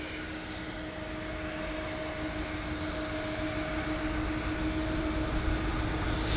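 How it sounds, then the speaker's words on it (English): A Boeing 777-200 taxis at London Heathrow, a steady distant jet engine rumble with a faint whine, building slightly louder over several seconds with no voices. "The 777-200 there, that's taxiing now."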